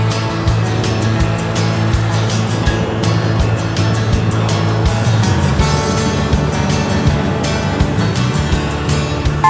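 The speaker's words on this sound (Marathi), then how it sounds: "आता मी स्टार्ट तर करतो गाडी," A vehicle engine runs loud and close at the start of a trek to Malang Gad. The steady, throbbing drone holds without a break throughout.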